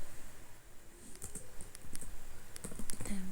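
Computer keyboard keys tapped in a quick, uneven burst of close, crisp clicks over a steady background hiss, with no voices.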